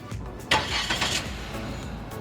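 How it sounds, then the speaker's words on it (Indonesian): Chery Tiggo 5X SUV engine starting by keyless remote, a quiet recording in which a sudden start-up burst gives way to a soft steady idle. "kita cuman perlu mencet locknya ini lama untuk menyalakan mesin ya"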